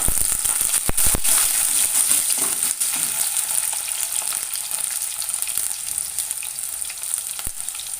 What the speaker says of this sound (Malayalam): കുറച്ച് ചെറിയ ഉള്ളി ഇട്ട് കൊടുക്കാം